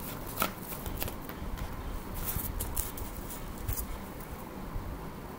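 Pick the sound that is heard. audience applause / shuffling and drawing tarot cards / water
shuffling and drawing tarot cards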